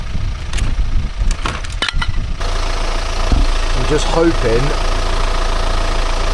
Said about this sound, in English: staying put for a minute, letting the engine run